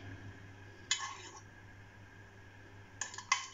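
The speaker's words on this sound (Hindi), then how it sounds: "इनको अब हल्का सा हमने मिक्स कर देना है" A utensil clinks against a bowl as eggs for an egg curry are lightly mixed, with one brief clatter early on and two quick taps near the end over a quiet kitchen hum.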